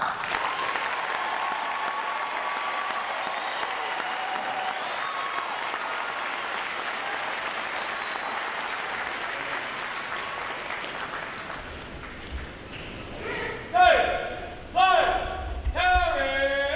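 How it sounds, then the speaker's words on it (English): A U.S. Navy graduation ceremony crowd applauds loudly and continuously for about twelve seconds, then the clapping thins out into a few scattered knocks and voices. "One more round of applause."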